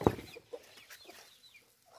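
A hen over three years old, kept with a bearded black rooster's chicks, gives one loud close cluck followed by a few softer, scattered clucks and faint farmyard chatter.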